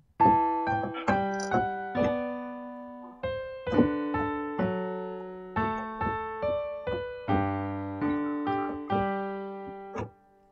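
Piano playing the chorus chords of a Bollywood song as broken chords, with clear separate note attacks that ring and decay at a steady, unhurried pace across several chord changes, played alone with no voice.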